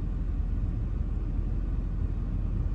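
A PacBrake exhaust brake engaging on a truck gives a steady, loud, deep rumble that holds evenly for the whole stretch, with no speech.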